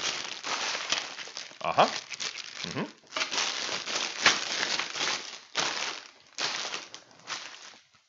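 Plastic bags of LEGO bricks for the Marvel Sanctum Sanctorum set being lifted out of an opened cardboard box, a close, steady run of crinkling and rustling bursts with brief murmured voices between them.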